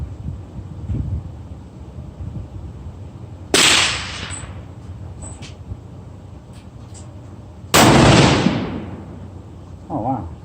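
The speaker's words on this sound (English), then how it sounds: "First time shooting off the bipods." Two loud rifle shots from a TC Compass and an LFA AR-10 in 6.5 Creedmoor fired off a bipod at a bench, each a sharp crack with a rolling echo that fades over several seconds, spaced about four seconds apart against a windy outdoor background.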